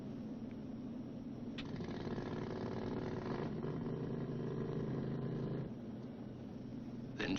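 A B-29 bomber's small auxiliary power unit engine, the putt-putt, starting and running as a steady, fairly faint mechanical drone that holds for several seconds, then drops away near the end.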